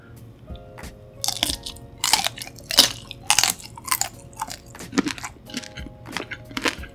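Shell-on shrimp in black bean sauce crunched between the teeth, with crisp, brittle bites and chewing in an uneven rhythm, close and fairly loud against a quiet background.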